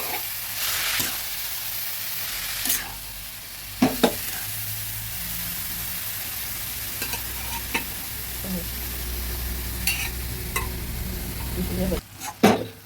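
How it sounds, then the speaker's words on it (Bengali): Spatula stirring niramish cabbage curry (bandhakopi) in a frying pan, a steady low sizzle with scraping strokes and sharp clacks of the utensil against the pan, louder knocks near the end, no voices. "ভালোভাবে নেড়ে দিচ্ছি"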